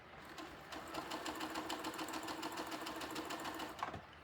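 A sewing machine stitches across a quilted cow head, a faint, steady rapid whir with fine regular ticking that runs for a few seconds before stopping abruptly, with no talking.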